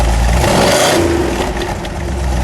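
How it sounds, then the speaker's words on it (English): A 1970 Dodge Challenger with a 340 cubic inch V8 is revved hard up close, the loud engine roar climbing and then easing back in one continuous burst. "give it a rev"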